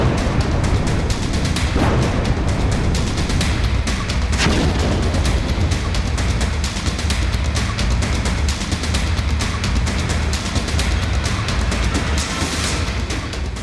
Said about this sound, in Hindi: आईएसआईएस के ठिकानों पर एयर स्ट्राइक।